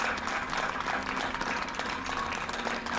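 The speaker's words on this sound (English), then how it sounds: "Then he gets an applause." Applause from a party crowd in The Boondocks episode "The Garden Party", a fairly faint, steady patter of clapping lasting a few seconds.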